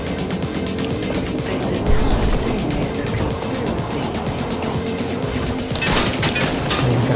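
Gunfire rattles during a Fortnite fight: a dense run of rapid shots and impacts, loud and close, continuing throughout with a sharper burst near the end.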